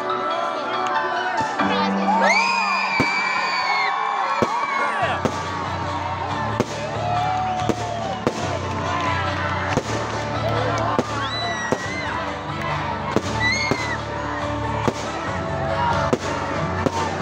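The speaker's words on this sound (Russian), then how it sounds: "И салют. Праздничный салют!" Festive fireworks at a children's summer camp's 60th anniversary celebration, with repeated loud bangs and crackling bursts over a busy crowd of children shouting and cheering, all continuing throughout.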